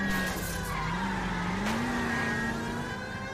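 Car tyres skid and squeal with a tonal whine that bends in pitch, over steady engine noise during an L.A. Noire car chase.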